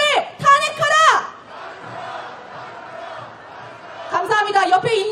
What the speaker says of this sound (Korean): 구호 외치겠습니다